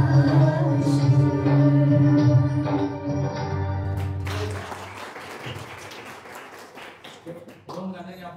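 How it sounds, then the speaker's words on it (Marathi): An audience at a live Marathi song concert breaks into clapping, a broad crackling burst of hands that swells after a sung passage and continues steadily under the remaining music and voices. "तुमचेही हात मोकळे झाले टाळ्या वाजवायला"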